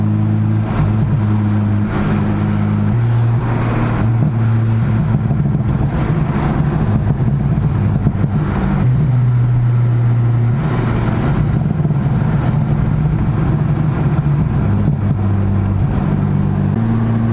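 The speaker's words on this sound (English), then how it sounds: "this is what the pop tune sounds like. Windows down, like normal driving." A car with a pop tune cruising at normal speed with the windows down, a steady droning engine and exhaust note that rises and dips slightly, with no sharp pops standing out and no talking.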